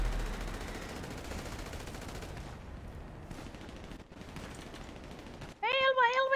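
Shotgun blasts ring out during a purge-style round of the video game Marbella Vice, a run of sharp reports under game noise, with a voice talking at the end.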